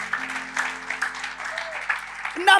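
A church congregation applauds during a sermon, steady clapping mixed with excited voices and a sustained vocal tone, swelling into a louder burst at the end.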